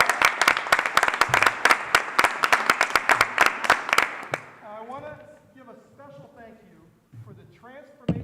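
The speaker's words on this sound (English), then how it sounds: "Please give a round of applause" Audience applause at the 2024 Do Good Challenge Finals: dense, loud clapping from a crowd for about four seconds, then fading as a single voice begins speaking.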